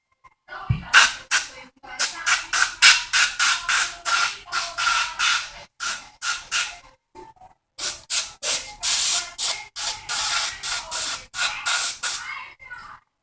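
Chemtool B12 carburetor cleaner sprays from an aerosol can onto a 150 cc carburetor in about two dozen loud, close hissing bursts in a steady rhythm, with a short pause midway.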